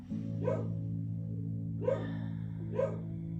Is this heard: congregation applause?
no